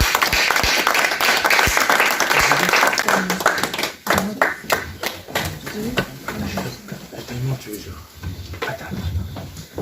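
A church congregation at a women's convention applauds the Lord, with loud sustained clapping that thins into scattered individual claps, mixed with voices and shouts in a large hall.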